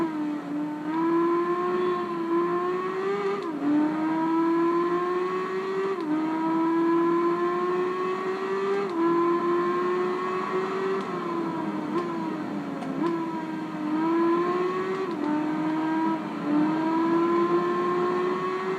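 A motorcycle engine in the PS2 racing game Tourist Trophy revs continuously, its pitch repeatedly climbing and then dropping as the throttle is opened and closed, steady and loud throughout.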